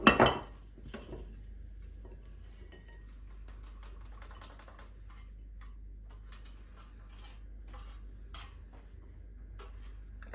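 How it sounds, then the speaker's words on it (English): Air fryer stir-fry vegetables are served from the basket onto a plate, with sparse, faint clicks, taps and scrapes of utensil against dish in a quiet room. "And then just grab yourself a plate or a dish, whichever you prefer, and you can just load it up."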